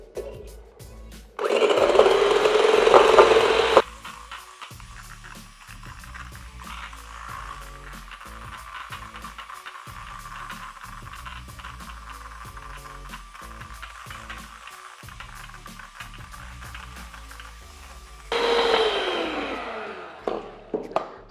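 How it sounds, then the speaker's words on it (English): An electric hand mixer whips egg whites in a bowl, a loud motor whine that starts and runs for a couple of seconds, then a long low steady hum with repeated clicks, and a final loud burst near the end. "with a hand mixer, we are going to mix the eggs for about 1 minute till they are forming"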